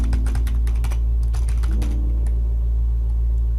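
An address being typed on a computer keyboard: a quick run of close, crisp key clicks over a constant low hum, the tapping stopping partway through.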